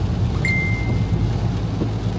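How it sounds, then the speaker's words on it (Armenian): Rain with thunder, a steady dense wash of falling rain under a low continuous rumble, even and unbroken across the short stretch, with no voices. "Ստեմ մի քիչ թափանեց անձրևը"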